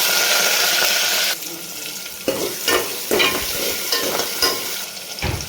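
Onions, green chillies and curry leaves hit a hot pan with mustard seeds and cumin, first a loud steady hiss, then close, uneven sizzling and stirring scrapes.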